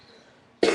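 A single sharp cough bursts in loudly and close after a near-silent moment, harsh and breathy like a smoker's throaty cough.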